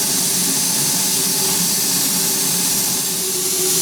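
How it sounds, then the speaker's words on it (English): A steam pump on a live steam engine hisses in a loud, continuous, close roar of escaping steam pressure with no pauses. "And this is a steam pump, which runs piston action off the steam pressure"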